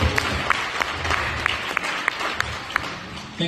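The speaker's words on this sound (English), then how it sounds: "Another round of applause" Crowd applause at a tenth anniversary stake celebration after a cake cutting, sustained even clapping with scattered sharp individual claps, moderately loud and continuous.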